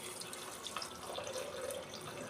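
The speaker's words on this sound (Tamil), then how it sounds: "இதெல்லாம் போட்டுட்டு தண்ணி ஊற்றிடுங்க." Water poured from a vessel into a pressure cooker holding moong dal, garlic, cumin and turmeric, a soft, steady trickling splash that runs quietly and continuously throughout.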